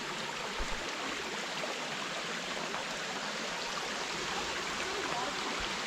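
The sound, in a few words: creek flowing on a trail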